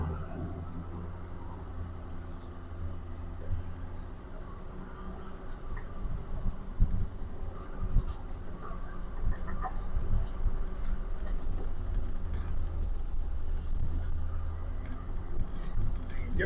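A bus rumbles and jolts over a rough desert wash, with a steady low engine drone, loose rattles and occasional knocks, while people talk over it.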